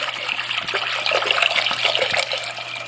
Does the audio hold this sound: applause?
no